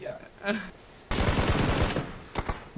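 Rapid bursts of automatic gunfire from a PUBG match crack out loud and close. A sustained volley is followed by a short pause and a second quick burst, with faint voices and game sounds before the firing.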